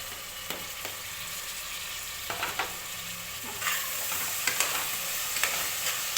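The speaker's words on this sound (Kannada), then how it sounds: "ಟೊಮೆಟೊ ಹಾಕ್ಬಿಟ್ಟು ಹೀಗೆ ಮಿಕ್ಸ್ ಮಾಡಿ ಸ್ವಲ್ಪ ಬಿಡಬೇಕು." Tomatoes fry in oil with turmeric for chicken biryani, a steady close sizzle broken by occasional scraping knocks as the mixture is stirred; no voices are present.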